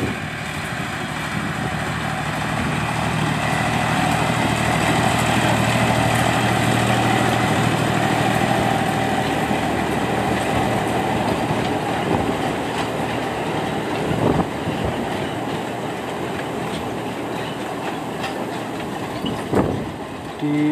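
A sugar mill locomotive runs along well-kept rails in a continuous loud rumble with a steady engine drone and faint rhythmic clatter from the track, heard up close for about twenty seconds without speech.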